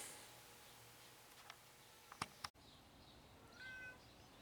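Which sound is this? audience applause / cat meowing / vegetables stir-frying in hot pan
cat meowing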